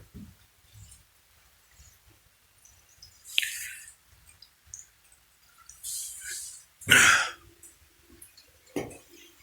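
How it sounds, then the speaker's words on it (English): Water dripping inside a school bus: a few irregular, separate drips and splats spaced several seconds apart, fairly close and quiet, with no talking. "It's dripping right there."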